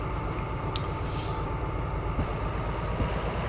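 A DE4 diesel locomotive in a multiple-unit lashup pushes a long train in Derail Valley, giving a steady, loud engine drone and rumble with faint rhythmic clanks and no voices.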